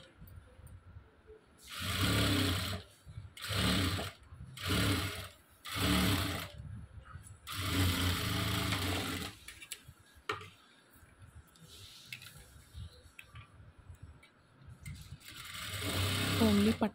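A sewing machine runs in several short bursts, stitching the right-side part of a prince-cut blouse, with pauses between runs and a longer stretch of stitching near the end.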